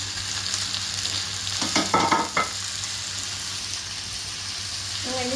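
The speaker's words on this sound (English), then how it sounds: "We're going to take our asparagus, we're going to put it over the pan." Asparagus sizzles steadily in an olive-oiled frying pan, a close, continuous crackling hiss, with a short clatter of the spears being placed and shifted partway through.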